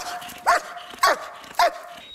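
Three loud, sharp dog barks at an international dog handlers' competition, evenly spaced about half a second apart, with quiet background noise between them.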